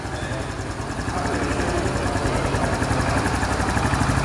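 A brand-new Honda Pop 110 motorcycle idles close by, its small single-cylinder engine giving a steady, loud, buzzing putter that holds even throughout.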